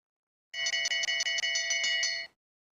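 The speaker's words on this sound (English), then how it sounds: "we got bell laps for Desmarais and Hall" A bell marking the bell lap at a long track speed skating race rings in a rapid, bright, rattling burst of about eight quick strikes lasting under two seconds, then stops.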